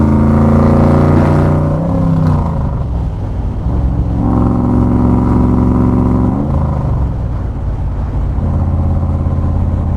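A loud Factory Five Cobra engine revs and pulls through the gears on a farm road, pitch climbing then dropping at each shift, a steady close roar throughout.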